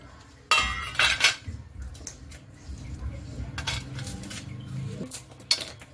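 Sesame chikki is lifted onto a plate with a metal utensil, giving a few close clinks and scrapes at the start, then softer intermittent scraping and tapping against dishware.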